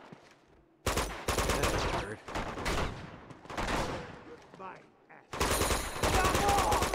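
Enemy gunfire in Uncharted 2: Among Thieves comes as dense, loud bursts of rapid automatic shots with short pauses between them, close and dominant, with a voice under the shooting.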